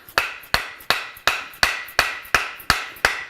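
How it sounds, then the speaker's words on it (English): A soft mallet taps a wooden handle into a tomahawk head, eight sharp evenly spaced knocks about half a second apart, close and loud with no talking. "tap the wood handle onto the head"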